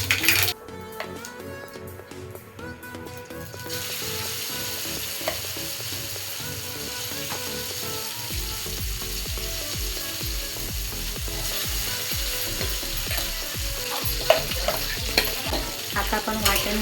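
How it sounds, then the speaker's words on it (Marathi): Cumin and mustard seeds fry in hot oil in a kadhai, giving a dense, close crackle of popping and spattering that continues steadily throughout with no voices. "तेल तापले. आता आपण जिरे मोहरी घालून घेऊया."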